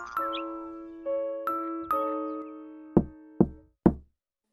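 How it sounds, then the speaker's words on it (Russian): A cartoon wolf knocks on a door in a children's Little Red Riding Hood cartoon: a few ringing chime-like tones, then three sharp, evenly spaced knocks, loud and close. "Он постучал в дверь"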